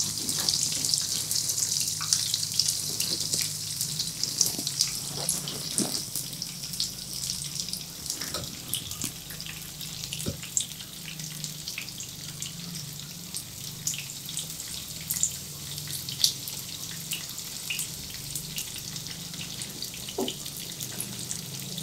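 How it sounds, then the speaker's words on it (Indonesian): Banana fritters frying in hot oil until golden brown give a steady, dense sizzle dotted with scattered small crackles and pops, continuous throughout with no talking. "Kita goreng sampai warnanya kecoklatan"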